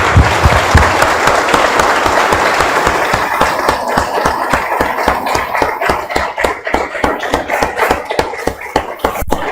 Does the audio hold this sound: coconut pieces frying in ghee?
no